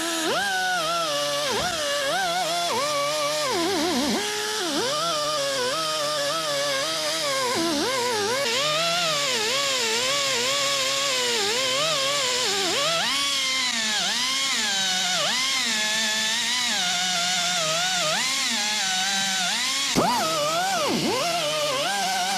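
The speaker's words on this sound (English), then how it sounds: "I think I'll use my die grinder with my wire wheel on it, run over that area and run up this area as well." A die grinder fitted with a wire wheel works over the bodywork of a 1959 Dodge Coronet, a loud, continuous whine that rises and falls in pitch as the wheel is pressed and eased.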